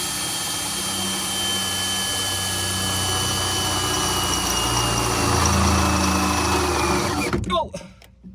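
A drill bit bores through a Mahindra ROXOR heavy-duty floor mat with a loud, steady, high-pitched whine that shifts slightly in pitch, then stops with a few rattling clunks.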